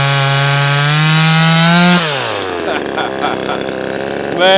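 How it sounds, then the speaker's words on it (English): A NEO-TEC 25cc chainsaw with a 12-inch bar revs loud and close, its engine pitch sagging as it bites into a roughly 12-inch wooden log, then climbing again at the end. "Cut through it like a big chainsaw."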